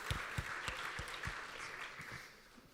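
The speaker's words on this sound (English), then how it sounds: "Another big round of applause for Clive as he makes his way to his chair" A small audience at a sports sponsorship talk applauding, steady clapping with a few distinct close claps at the start, gradually fading out.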